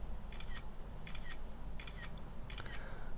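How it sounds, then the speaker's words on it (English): Four crisp iPhone camera shutter clicks, evenly spaced about every three quarters of a second, close and clear over faint room hiss. "we can hear the shutter sound again"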